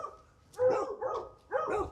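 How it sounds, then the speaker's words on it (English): A few loud barks from cattle working dogs at a cattle loading yard, spaced about a second apart and fairly close, with quieter yips between. "those are all cattle working dogs and one hog dog"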